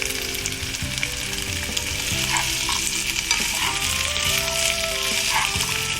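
Sabudana and boiled peanuts are stirred and fried in a pan, sizzling steadily while a spoon scrapes and clinks against the metal at irregular intervals, close up with no voices.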